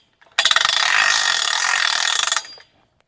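A Logrite log jack ratchets rapidly in fast mode, a loud, close, continuous clicking rattle lasting about two seconds before it stops abruptly.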